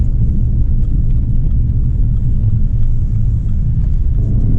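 The turbo engine of a lifted 2020 Subaru Ascent on off-road tires pulls hard while accelerating on the road, a loud, steady low rumble with road noise from inside the cabin and no talk.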